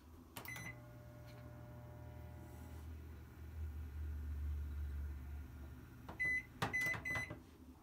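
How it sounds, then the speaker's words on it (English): A microwave oven runs inside a 2008 Dutchmen 26B-DSL travel trailer, a steady low hum droning throughout, with its beeps at the start and a burst of beeps near the end. "Microwave works."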